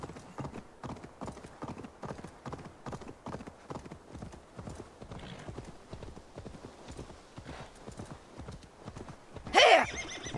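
A horse gallops in steady rhythmic hoofbeats across open land in the video game Assassin's Creed Valhalla, then snorts and neighs sharply near the end, with no talk.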